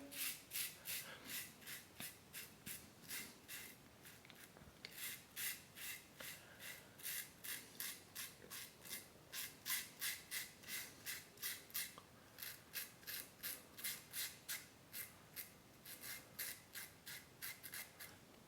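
A Parker 60R safety razor shaves a sideburn, close-up rhythmic scraping strokes in quick repeated bursts with short pauses, faint and with no talking.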